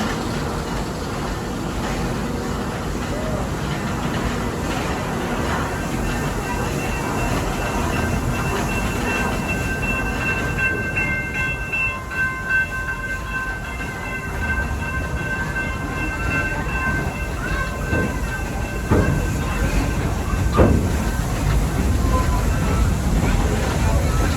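The Busch Gardens Serengeti tour train in Tampa rolls along its track, a continuous rumbling clatter with faint wheel squeals, heard from onboard while a guide talks over it.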